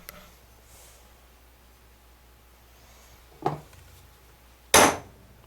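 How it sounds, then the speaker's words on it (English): A hammer taps a rivet-style twist fastener on a fore deck sail bag twice, a lighter knock and then a sharper, louder one, close and isolated against a quiet background. "Then we'll give it a couple taps, and that was enough for these."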